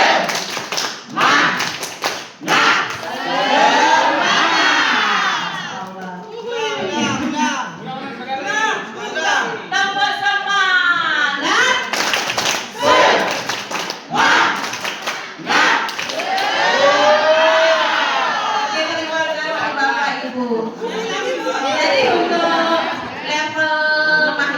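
An audience at a literacy community gathering performs a spirit-clap chant: voices chant together in a loud, lively call while bursts of rhythmic hand claps punctuate it, starting sharply and returning in clustered patterns midway through.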